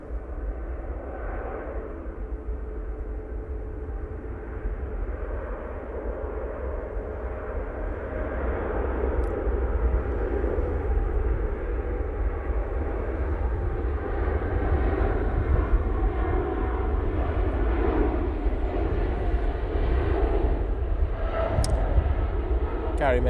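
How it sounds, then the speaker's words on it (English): A Boeing 787-9 Dreamliner on its takeoff roll at Manchester Airport, a distant jet rumble that grows louder and steadier, with talk over it. "Now, on the roll, using the 787-9 Dreamliner"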